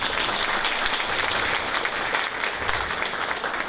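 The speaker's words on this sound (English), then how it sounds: "A big round of applause for Anna, everyone." Audience applause at a comedy magic show, a dense, steady wash of many hands clapping close by and loud throughout, with no talking over it.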